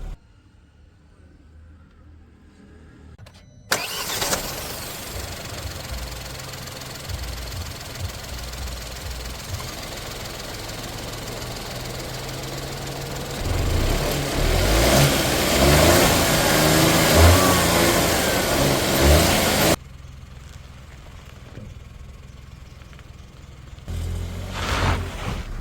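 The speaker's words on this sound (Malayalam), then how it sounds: "ചെറിയ എഞ്ചിനാണ്, സ്വാഭാവികമായും ടർബോ ലാഗ് ഉണ്ട്." A Kia Sonet HTX 2024 facelift with a turbo petrol engine and DCT gearbox cranks to life, idles with a steady hum, then revs up hard into a louder, sustained roar before cutting off abruptly.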